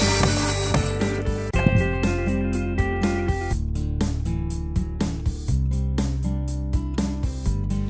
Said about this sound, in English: let's swap out our drill bit for the Kreg screw driver bit